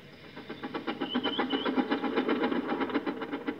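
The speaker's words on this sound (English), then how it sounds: "James was able to pull the train." A small steam engine hauls a string of coaches along the track, with a steady rhythmic chuffing and clatter of wheels repeating evenly, close and moderately loud, with a brief whistle-like squeal partway through.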